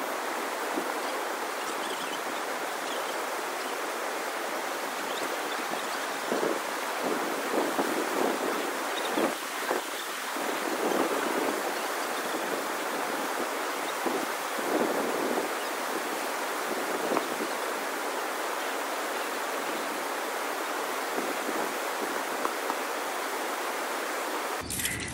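A glacier-fed waterfall roars as a steady, loud, broadband rush of falling water, continuous throughout with faint wind buffeting and no voices.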